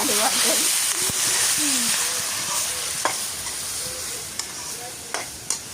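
Tomatoes frying in a pan of Sri Lankan-style tinned fish curry, giving a steady broadband sizzle with occasional stirring clicks and short taps, moderately quiet, under brief talk.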